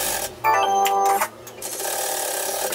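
A sewing machine stitches a fabric cuff for a pleated children's coat, one loud whirring run of under a second, then quieter handling and background hum with no talk.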